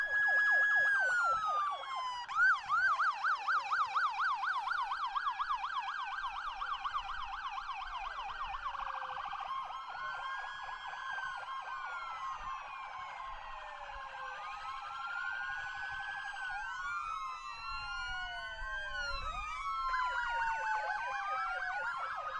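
Several fire truck and police car sirens wail and yelp at once outside a hospital, overlapping rising and falling tones, loud and sustained, with bursts of rapid warbling.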